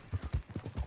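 Horse hooves clip-clop in Red Dead Redemption 2, a quick, even run of about six soft, muffled hoof thuds close by at a trotting pace, with no voices.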